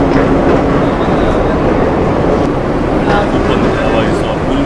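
A Bhakra railway train rolls through a dark tunnel, with a dense, loud, steady rumble and rattle heard from inside the coach and a voice speaking over it.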